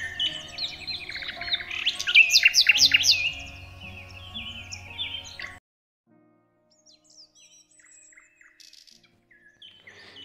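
Birds sing in a forest, bright chirping and trilled phrases layered over one another, loud at first, then dropping to near silence before faint calls return.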